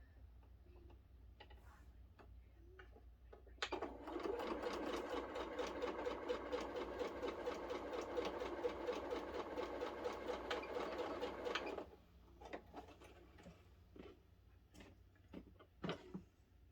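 A sewing machine stitches a quilt block in one continuous eight-second run of rapid, even whirring and ticking, close and clear, framed by quiet fabric handling and small clicks before and after.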